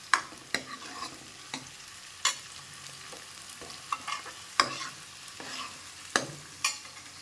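Onions fry in oil in a pan for chicken and potato curry, a soft constant sizzle broken by sharp, irregular scraping clacks as a spoon stirs them.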